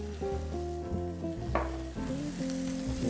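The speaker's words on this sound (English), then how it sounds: "Give the onions a quick stir. You can see they're kind of catching a little bit." Onions frying in oil sizzle in a pan while being stirred, a busy crackling hiss with scraping and clinking of the utensil in the foreground.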